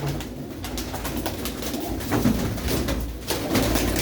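Pigeons in a Punjabi fancier's loft, among them white-eyed mixed birds, coo faintly amid a dense rumble of background noise, with brief coos standing out near the middle and end.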